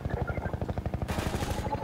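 Rapid automatic gunfire from enemies in Half-Life 2, a fast, regular burst of shots that keeps going through the whole stretch. A brighter layer of noise cuts in about halfway, with no talking.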